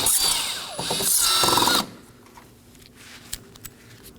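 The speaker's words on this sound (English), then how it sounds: "I'll be using a T15 bit on drill to remove these." A power drill fitted with a T15 bit backs out Torx screws from the upper bumper of a 2018-2024 Chevrolet Equinox, a loud close whirring burst lasting under two seconds, then quieter shop ambience with a couple of faint clicks.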